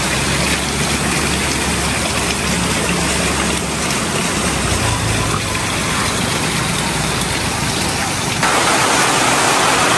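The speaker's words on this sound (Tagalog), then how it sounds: "Grabe ang ulan." Heavy rain pouring down steadily outdoors, a loud, dense, unbroken hiss of water on surfaces throughout with no voices.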